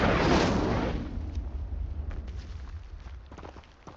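Incendio fire spell cast in Hogwarts Legacy, a loud whooshing fiery burst at the start that rolls off into a long, crackling, rumbling decay.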